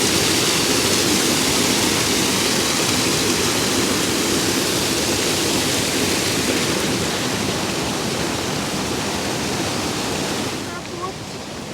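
Steady, full roar of flowing water from the Bistrica mountain creek near Preddvor, loud and close throughout, easing slightly near the end with no voices.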